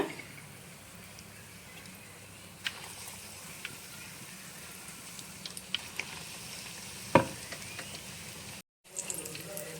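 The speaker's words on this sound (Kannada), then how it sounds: "ಫ್ಲೇಮನ್ನು ಮೀಡಿಯಂ ಫ್ಲೇಮಲ್ಲಿ ಇಟ್ಟು ಇವಾಗ ಇದನ್ನು ಫ್ರೈ ಮಾಡ್ಕೊಳ್ಳೋಣ" Potato bondas fry in hot oil with a soft, steady sizzle and occasional spoon clinks and splashes, close by and fairly quiet.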